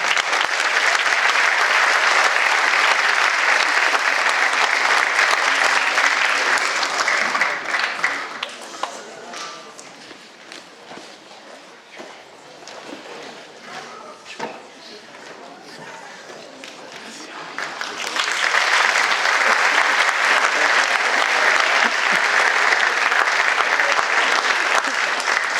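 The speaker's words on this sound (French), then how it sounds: "Je voudrais lui donner la parole maintenant, sous vos applaudissements." Audience at an end-of-year show applauding to welcome the mayor: loud sustained clapping from a crowd, dropping to a quieter murmur with scattered claps midway, then swelling back to full applause.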